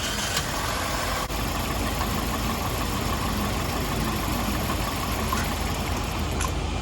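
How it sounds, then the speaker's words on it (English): Car engine idling roughly while misfiring on the number one cylinder, a steady close mechanical drone with faint uneven stumbles and ticks, no voices over it. "So it's missing on this number one cylinder for sure"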